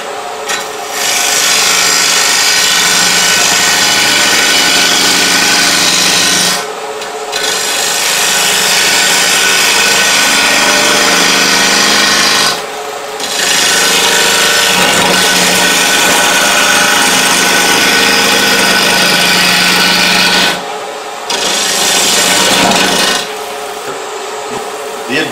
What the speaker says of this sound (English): I'm going to do that same peeling cut I did on the outside,